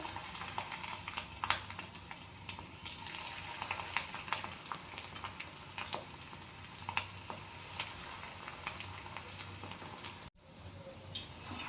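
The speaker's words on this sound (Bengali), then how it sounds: "এরপর আমি রুই মাছের ডিমের পকোড়াটা ভাজবো।" Rohu fish roe pakoras frying in hot, smoking oil in a kadai, a constant close crackling sizzle with scattered sharp pops and spatters, no talking.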